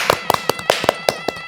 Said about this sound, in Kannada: ಚಪ್ಪಾಳೆ ತಟ್ಟಿ ಎಲ್ಲರೂ.